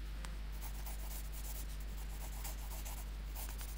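A pencil scratches steadily across paper while sketching a fantasy soldier's helmet design, a close, continuous rubbing stroke sound alone with no voices.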